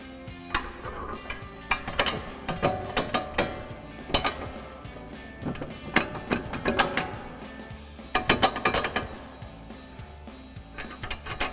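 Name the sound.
jack raising a Mustang lower control arm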